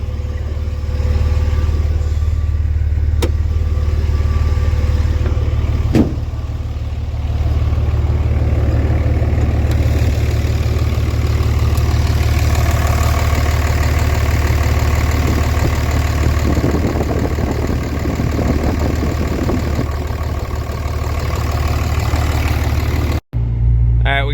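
A Cummins diesel dually pickup idles as it warms up, a steady low rumble running unbroken and fairly loud, with a faint tick or two near the start and a brief cut just before the end.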